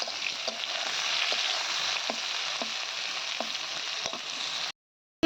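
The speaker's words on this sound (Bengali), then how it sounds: "একটু সবজি ভাজা" Vegetables fry in a pan with a steady, close sizzling hiss and a few soft stirring clicks. The sound stops abruptly near the end.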